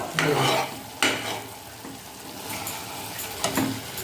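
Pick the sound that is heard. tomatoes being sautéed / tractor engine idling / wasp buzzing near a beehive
tomatoes being sautéed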